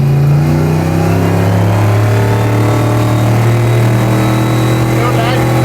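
Turbocharged 427 LSX engine in a truck builds steady, loud low drone with rising harmonics as it accelerates, a continuous near rumble under a voice talking.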